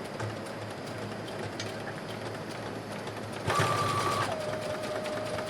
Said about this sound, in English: we're going to go to the sewing machine and we're going to straight stitch at 5/8 inch beginning at our wrist